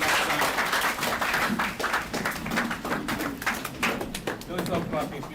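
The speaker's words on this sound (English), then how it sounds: "Don't stop clapping, please." An audience at a BoyCode Africa bootcamp event claps together in dense, steady applause that keeps going with crisp, uneven hand strikes throughout.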